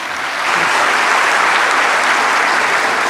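Sustained, dense applause from a large audience at a formal state event in honour of Ghana's President, swelling in after a brief moment and holding steady and loud throughout.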